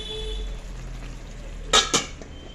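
A lid is set onto a pot of simmering bottle gourd, making two quick metallic clanks close together after a stretch of low, steady kitchen background.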